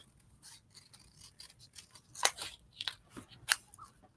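Scissors cutting a strip off the edge of paper while art journaling, with a few quiet snips, then several sharper, closer crunching cuts, with no talk.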